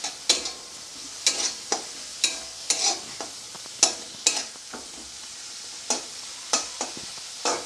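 Ginger paste sautéing in a pan for a fish curry, a soft continuous sizzle broken by a dozen or so sharp, evenly spaced scraping strokes of a spatula, close and clear with no voices.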